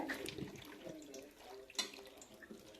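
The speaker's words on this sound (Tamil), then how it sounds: "காலிஃப்ளவர் பூ வந்து சுடுதண்ணி ஊற்றி நல்லா அலசி எடுத்து வச்சுக்கணுங்க." Water splashes over cauliflower florets being rinsed in warm water, a soft running, sloshing sound with a few small clatters, close by and fairly quiet, no voices.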